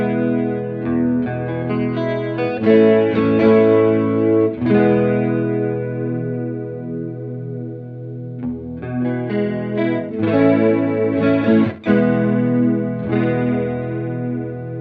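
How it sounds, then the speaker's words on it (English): An electric guitar runs through an Alexander Sugarcube stereo chorus pedal set to mono, strummed chords and picked notes shimmering with a wide chorus, sustained and close, with no talk. "I'm going to let you all hear how it sounds on the mono setting. So this is the chorus again."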